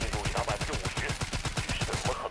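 Sustained automatic gunfire in the mobile shooter Delta Force Mobile, a fast even stream of shots that is moderately loud and continuous, with no voices.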